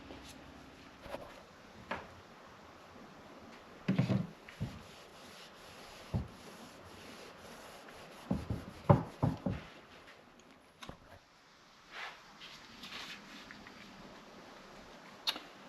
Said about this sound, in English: So now's a good time to clean your rim.